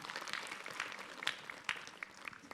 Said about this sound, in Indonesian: Tepuk tangan buat Habib Muhammad